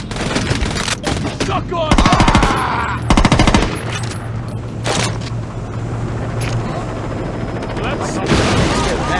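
Rapid automatic gunfire and bursts of shots in the Saints Row video game, loud and close, with heavy low rumble and a shouted voice over the shooting, alongside a siren-like tone and explosions.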